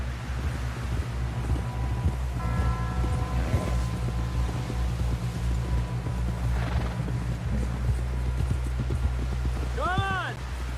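Horse hooves clip-clop along in Red Dead Redemption 2 as riders push toward a camp, the steady footfalls sitting under a constant drone of wind and music, with voices talking over them.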